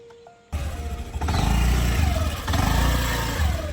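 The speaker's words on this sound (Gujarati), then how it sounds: "પોપટભાઈ ને એક્ટિવા આવી ગયું" An Activa scooter engine starts up abruptly and runs close by, its buzzing mid-pitched putter rising in a couple of throttle surges before settling into a steady idle.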